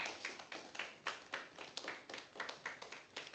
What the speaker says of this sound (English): Can we have a huge round of applause for Toastmaster Arpita?